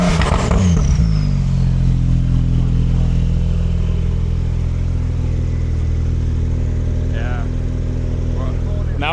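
Loud, deep engine rumble of a sports car, a Porsche 911 Turbo S or supercharged S650 Mustang, idling and revving in traffic, with a sharp rev at the start and brief higher engine sweeps later, under faint voices.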